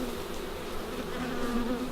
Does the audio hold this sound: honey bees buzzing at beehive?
yes